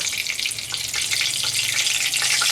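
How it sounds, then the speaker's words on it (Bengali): Two bay leaves dropped into hot mustard oil for tempering give a loud, continuous, crackling sizzle heard close and alone, without pause. "তেলটা আমাদের গরম হয়ে গেছে। আমি ফোড়নে দেব 2টো তেজপাতা"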